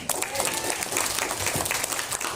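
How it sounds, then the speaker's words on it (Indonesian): Lively audience applause at a health product workshop, a brisk continuous patter of many hands clapping nearby for a couple of seconds, with a voice faintly mixed in. "Tepuk tangan buat PMD."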